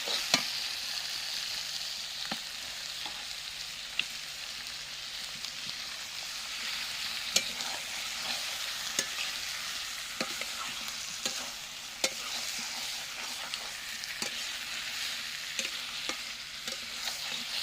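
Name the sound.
chicken being stirred and fried with spices in clay pot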